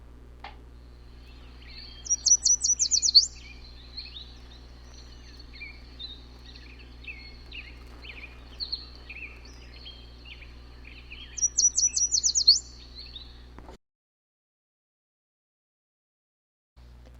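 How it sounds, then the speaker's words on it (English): A yellow warbler sings two short, bright, rapid phrases several seconds apart over quiet background hum, then the sound drops to silence. "here is the sound of the yellow warbler"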